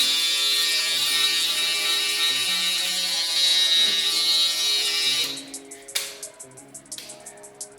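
A Babyliss Black FX One electric shaver buzzes loud and continuous for about five seconds, then cuts to quieter intermittent bursts and clicks.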